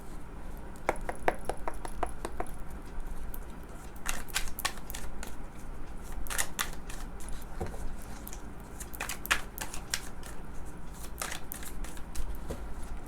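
Tarot cards are shuffled by hand in quick, crisp flurries of riffling and slapping. The bursts come in repeated runs over a quiet background, close and moderately loud.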